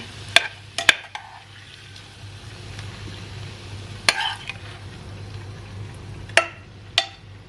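Shrimp and asparagus stir-fried in a pan, with a few sharp spatula clinks and scrapes spaced apart over a low, steady background hum, no talking.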